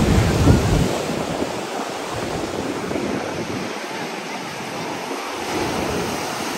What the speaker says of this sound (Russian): Ух, разбушевалось море.